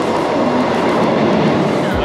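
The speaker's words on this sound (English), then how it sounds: "We think this is our train." A train at a Mumbai railway station, loud and continuous rumbling and clattering close by, filling the whole moment with steady noise.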